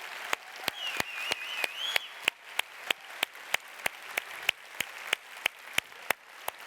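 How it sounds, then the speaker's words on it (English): Audience at a youth summit environment plenary session applauding councillors and delegate speakers, sparse distinct claps at a steady rhythm from a few nearby people, fairly quiet. "A huge round of applause for our councillors and delegate speakers."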